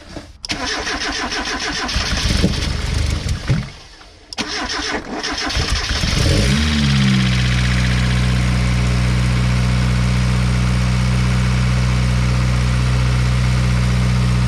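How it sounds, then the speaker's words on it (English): A Mazda Miata MX-5 turbo engine cranks, stumbles and catches after a few seconds, then settles into a loud, steady idle that continues to the end. "I'm gonna start the car"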